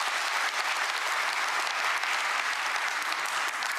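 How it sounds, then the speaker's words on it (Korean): An audience at a Korean government policy briefing applauds. The clapping is dense and steady and continues unbroken at an even level throughout. "박수 부탁드립니다."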